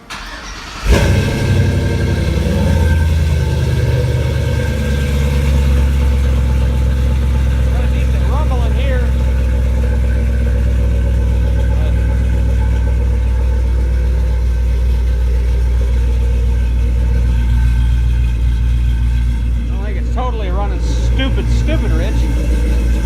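A 1983 Chevy K10 pickup with an LS engine swap and a newly fitted exhaust starts up and settles into a steady, deep rumbling idle, loud and close, with a few brief revs near the end.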